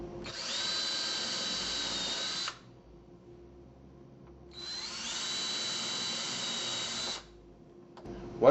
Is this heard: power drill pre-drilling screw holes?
yes